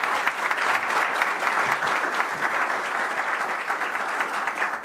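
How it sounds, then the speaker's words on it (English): An audience in Davos gives Kosovo's Prime Minister Albin Kurti a round of applause, sustained, dense clapping from many hands filling the room evenly for several seconds. "So we're joined by Prime Minister Albin Kurti, Prime Minister of Kosova. So a round of applause,"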